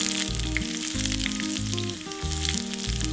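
Sliced shallot frying in hot coconut oil with mustard seeds and fenugreek for a papaya buttermilk curry, giving a steady close sizzle under a loud background music track.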